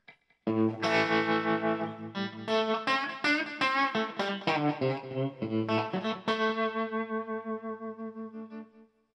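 Electric guitar through a RevivalTREM bias tremolo pedal, with a little delay and reverb: chords and single notes ring out with a pulsing, wavering volume, played steadily for several seconds before a long note fades away.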